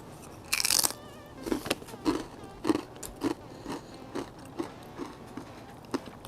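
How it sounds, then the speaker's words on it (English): Crunchy pita chips topped with smoked cream cheese and pepper jelly bitten and chewed up close, a loud crackling first bite followed by a steady series of crisp crunches. "I got these little pita chips I'm going to use, and we're gonna give this a shot."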